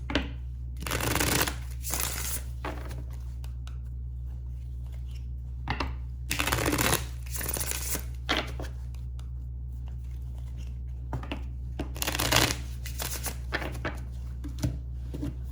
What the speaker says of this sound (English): I'm going to shuffle them first, guys.